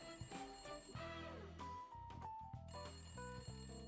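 Telephone ringing in the Layton Brothers Mystery Room video game, quiet repeated electronic ring tones with bright tonal chimes in a steady pattern, no voices over it.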